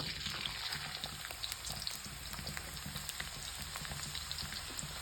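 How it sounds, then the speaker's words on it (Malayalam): Food drops into hot oil and fries with a dense, steady sizzle and crackle, evenly loud throughout with scattered pops and no talking. "എണ്ണയൊക്കെ ചൂടായെന്ന് തോന്നുന്നു നമുക്ക് ഇത് ഇട്ട് കൊടുക്കാം"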